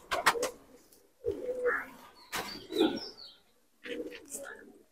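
Punjabi Malwai pigeons coo in several separate soft bursts with short gaps between them, close by and fairly quiet, mixed with a few brief chirps.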